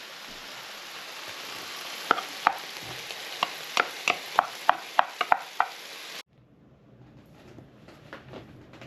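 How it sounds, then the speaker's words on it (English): Rice with a little sriracha is stirred around a hot frying pan. It gives a soft steady sizzle, and a spatula clicks against the pan in a quick series of sharp taps. Then everything drops to a faint hiss. "put the rice on top of that and start stirring it in"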